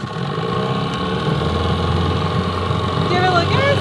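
A boat motor, pulled to choke and left in neutral, idles with a steady low rumble that holds throughout, close and fairly loud, with voices faintly underneath.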